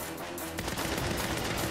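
A gun in the Saints Row reboot, powered by a pack its wielder wears, fires in a loud, continuous rapid stream throughout.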